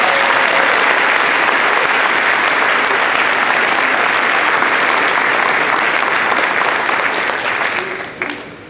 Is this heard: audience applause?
yes